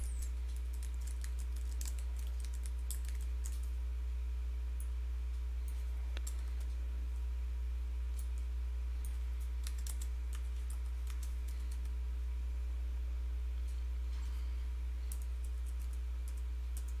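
Quick keystrokes on a computer keyboard while filling in a Google Docs form, irregular bursts of close typing over a loud steady low electrical hum, no talk.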